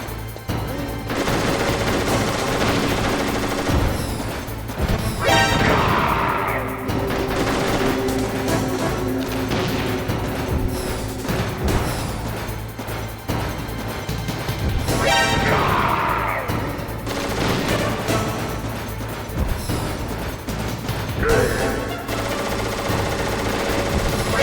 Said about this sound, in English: I love how the missile comes up and hits him in the back